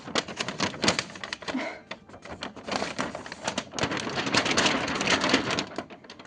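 A large folded paper map rustles and crackles continuously up close as it is unfolded, with no talking.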